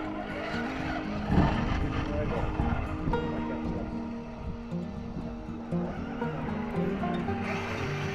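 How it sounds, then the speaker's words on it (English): An RC truck, a TRX-4 with drag wheels, doing a burnout in a shop, with whirring motor and tire squeal rising and falling under a voice talking. "I'm doing a burnout, I think."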